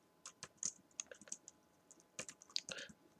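Code is typed on a computer keyboard in quick, irregular bursts of sharp clicking keystrokes, close and fairly quiet, with a brief pause in the middle before another rapid flurry.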